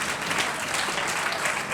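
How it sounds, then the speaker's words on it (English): A brief burst of steady, full applause from a crowd at a cycling club awards night, many hands clapping at a constant loud level throughout. "Can we just give them another round of applause,"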